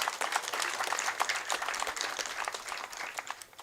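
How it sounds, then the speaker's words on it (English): An audience at an FDC Katonga national council meeting claps in response to a call from the stage, a fairly faint, uneven patter of many hands with distinct individual claps. "Give a loud clap, please."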